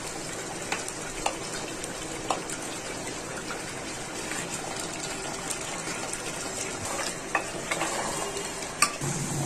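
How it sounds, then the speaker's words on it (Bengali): Pre-fried potatoes are poured and stirred into a pot of cooking beef, giving a soft, steady sizzle with occasional scraping clicks and no talk. "আর এখন এটার মধ্যে আলু ঢেলে দিবে, তা ওটা আগে থেকে ফ্রাই করে রেখেছিল।"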